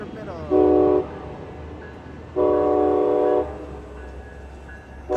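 Amtrak Capitol Corridor passenger train arriving at Oakland Jack London Square station, sounding two loud sustained horn blasts over a steady rumble of the train rolling in.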